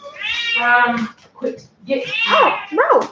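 A cat meows repeatedly in long, whining cries, close and loud, while a person speaks sharply over and between the calls.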